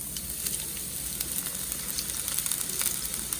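Scallion and onion sizzle steadily in a tablespoon of hot oil for a lemongrass sauce, a dense, even crackle with small pops, close and alone.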